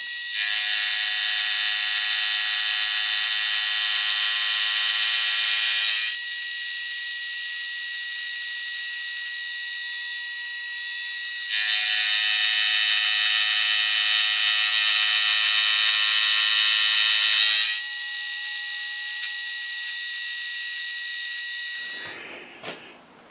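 A milling machine taking light cuts on an aluminium V-block, producing a loud, high continuous whine in long stretches broken by quieter pauses, ending with a brief clatter as it stops.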